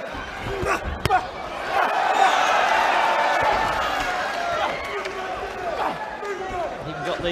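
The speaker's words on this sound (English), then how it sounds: "And the crowd are loving this." Crowd at a boxing bout featuring Dillian Whyte cheers and roars steadily through the whole stretch, a loud continuous swell of voices with a few sharp thuds early on, while a commentator talks over it.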